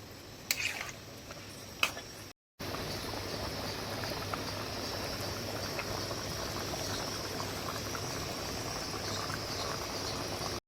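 Rohu fish curry in hot water boils in a pot with a continuous, even bubbling and simmering that begins after a brief knock and short gap, then holds steady and close.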